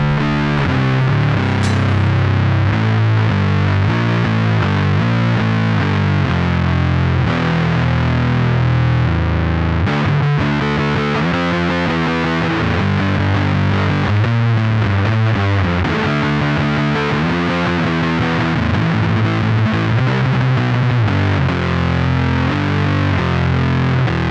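Electric guitar through a Red Witch Fuzz God pedal playing thick, saturated chords and riffs, loud and continuous with sustained distorted tone throughout.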